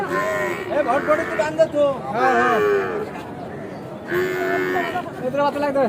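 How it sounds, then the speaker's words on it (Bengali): Young buffalo calves at a busy village livestock market give several drawn-out, nasal bawling calls in quick succession, loud and close, over a murmur of crowd chatter. "এখানে মহিষের বাচ্চা বেচাকেনা করার জন্য দেখতেছেন তারা"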